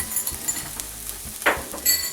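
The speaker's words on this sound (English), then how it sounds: "The onions are cooked about 5 minutes, and I'm going to add the garlic." Four cloves of garlic go into onions that have been frying for about five minutes, and a spoon stirs them through with a soft crackling sizzle, scraping and a few clinks against the pan, heard close and without talk.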